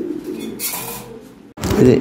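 Black toy Lahori pigeons coo loudly and close in a pair, with deep throaty bursts broken by a short pause and a strong final coo.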